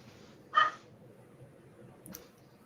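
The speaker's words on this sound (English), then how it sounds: "I heard somebody barking. That's Kaylee again." A single dog bark sounds near the mic over a low background hum, followed a moment later by a fainter short yelp.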